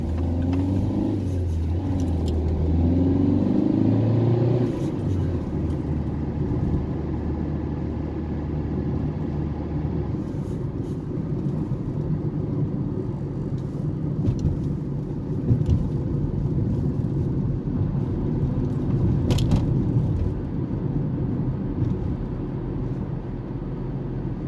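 A car drives along a road in Belgium, a continuous close engine and tyre rumble that swells slightly as it accelerates early on, then holds a steady cruising drone with occasional bumps.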